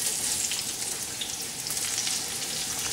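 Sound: zucchini and squash strips sauteing in oil

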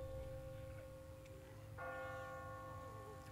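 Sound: bell ringing in a video game, The Walking Dead

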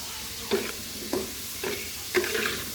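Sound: potatoes frying in oil

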